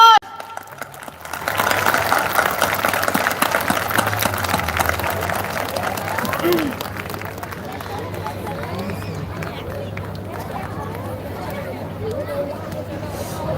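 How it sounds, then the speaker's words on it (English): Audience applause and crowd hubbub at a school celebration as mothers are honoured after a performance, a broad wash of clapping that swells early then settles under ongoing murmur and a low steady hum. "give them a round of applause"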